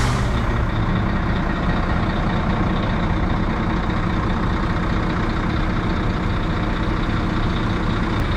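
A lorry's engine rumbles steadily at a scrapyard setup inside a large arena while it is unloaded, with reversing beeps and a hiss of air brakes over the continuous heavy drone, no voices.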